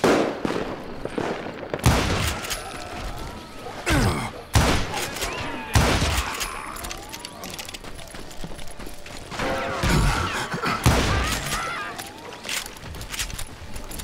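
Gunfire in the Western shooter game Call of Juarez Gunslinger, loud repeated shots cracking in irregular bursts across a busy, noisy battle scene.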